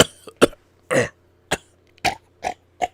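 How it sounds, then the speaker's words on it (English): A series of short, sharp coughs, about seven in a row, close and loud with brief silences between them. "Was I coughing?"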